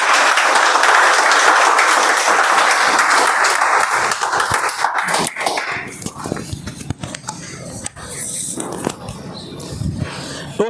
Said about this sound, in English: Please help me welcome with huge round of applause Toastmaster Utkarsh onto the stage.